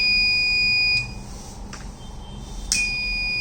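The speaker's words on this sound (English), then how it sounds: "and buzzer will get switched on." The buzzer of an LM358 comparator fire alarm circuit with a flame sensor sounds a steady, shrill electronic tone. It drops out after about a second and returns near the end over low background hum.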